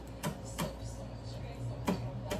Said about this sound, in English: run your knife through the green onions